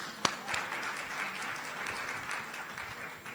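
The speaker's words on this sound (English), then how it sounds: "yes, you can applaud that" Audience applause at an international businesswomen's exhibition and forum, a steady wash of clapping from a moderately distant crowd with one sharper clap near the start, continuing evenly throughout.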